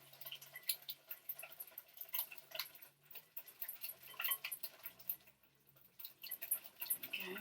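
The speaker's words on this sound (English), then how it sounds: "we're just going to whisk all of this together" A whisk clicks and taps quickly against a bowl while mixing banana cupcake batter, a light, rhythmic ticking with brief pauses.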